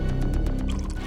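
Water is thrown onto an unconscious, injured man's face, a short, loud wet splash and slosh with dripping liquid, heard up close with no talk.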